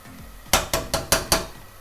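A metal lid is set onto a pot of cooking urad lentils, giving five sharp, ringing clanks in quick even succession, close and loud over quiet kitchen background.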